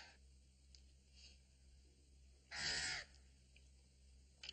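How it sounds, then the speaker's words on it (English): A crow-like bird gives a loud, harsh caw-like call for about half a second in the middle, standing out against a quiet indoor room tone in a Western drama scene. "Don't play with the bird, boy. He don't like it."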